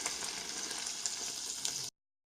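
Meatballs cooking slowly in a pot on medium-low heat, giving a steady soft sizzle with faint crackles that runs evenly and then cuts off abruptly, with no talking.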